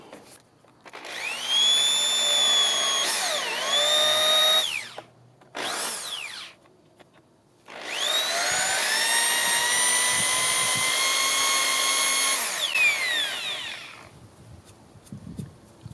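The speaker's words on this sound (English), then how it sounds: "let's drill some holes" A power drill whines loudly in long bursts, drilling holes into an e-bike rack, spinning up and winding down with short pauses between runs, then stops near the end.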